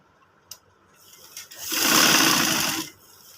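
Sewing machine stitching a men's side pocket: a couple of faint clicks, then a close burst of rapid whirring stitches lasting about a second before stopping.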